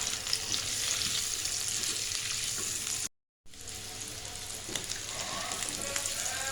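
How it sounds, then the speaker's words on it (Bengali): Potatoes fry in hot oil with turmeric, making a steady close sizzle and crackle, briefly cut off near the middle before it resumes just as strongly. "সামান্য হলুদ দিয়ে আমি আলুগুলি ভালো করে ভেজে নিব।"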